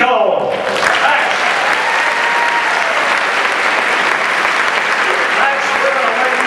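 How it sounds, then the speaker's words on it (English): A crowd at a live show breaks into loud, dense applause greeting a performer making his first appearance, a steady wash of clapping that holds evenly for several seconds with talk mixed in. "And ladies and gentlemen, a big round of applause making his first thoroughbred appearance, Max Esposito."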